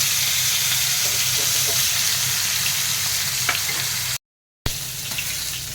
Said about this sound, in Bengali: মাছগুলিও ভেজে নেব